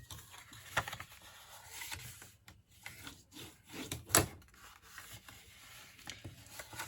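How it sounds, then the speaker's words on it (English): Paper being folded and burnished along score lines for a craft project, giving soft, intermittent rubbing and scraping strokes at close range, fairly quiet with no talking. "Now we're going to fold and burnish all of our score lines."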